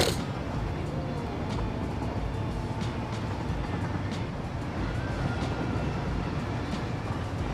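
Trains run on a rail network in the factory-building game Satisfactory. A steady, dense rumble of rolling rail cars carries on throughout at moderate level.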